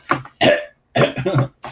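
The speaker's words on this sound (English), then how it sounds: "You gotta bend over and cough, huh?" Two loud coughs up close from a man told to squat and cough, each a harsh burst followed by a short pause, with no other voices.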